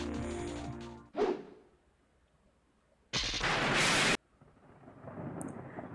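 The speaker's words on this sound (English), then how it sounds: "Lightning and thunder struck like an explosion. It was so loud it shook the ground" A loud thunderclap cracks in from a Higurashi visual novel scene, a sharp strike followed by a long, heavy roar that rumbles for about a second, then fades into quiet ambience.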